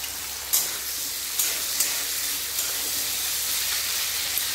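Washed potatoes frying with whole cumin and a dried red chilli in a pan, a continuous broad sizzling hiss with a few faint pops, steady and close throughout.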